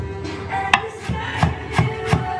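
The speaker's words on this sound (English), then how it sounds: "here she is chopping up some leeks" A kitchen knife chops leeks on a cutting board in about five sharp, evenly spaced strokes, close and distinct over faint background room noise.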